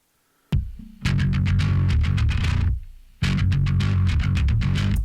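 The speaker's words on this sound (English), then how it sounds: "I tracked the bass, which sounds like this." A Kiesel Vanquish electric bass plays two heavy, distorted riff phrases with a brief pause between them, loud and close, with a single plucked note before the first.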